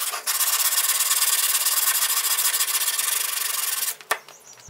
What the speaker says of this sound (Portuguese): Usando a lixa, pude dar um acabamento melhor na peça.